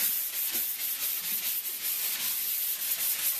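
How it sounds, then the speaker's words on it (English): A sanding sponge scuffs across a painted interior wall in quick, continuous back-and-forth strokes, producing a close, hissing rub with a steady rhythm and no talking. "I kind of like these sanding sponges though"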